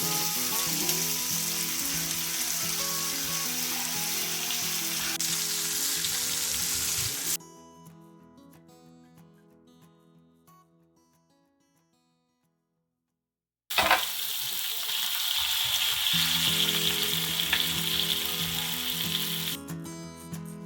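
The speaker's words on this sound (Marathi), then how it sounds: "दुसऱ्या बाजूने पण आपल्याला पाच मिनिटसाठी फ्राय करून घ्यायचे आहेत" Pomfret fish fries in oil in a pan on its second side, a loud steady crackling sizzle. It drops out briefly to near silence, then returns just as strong.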